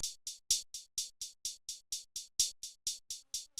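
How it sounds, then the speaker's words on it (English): An open hi-hat sample programmed in FL Studio for a song remake ticks in a quick, steady pattern of bright hissy hits with a few accented ones, fairly quiet and alone. "Next, we have this open hat,"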